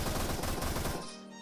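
Automatic gunfire from a rocket-and-bazooka raid in a survival video game: a dense, loud, rapid burst for about a second that cuts off into a fading ringing tail.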